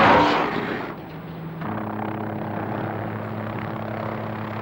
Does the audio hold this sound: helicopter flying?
yes